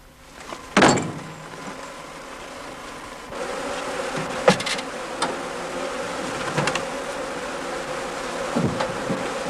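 Honey bees buzz around their hives, a steady droning hum with individual insects whizzing close past, plus a couple of sharp knocks and clatters from nearby work.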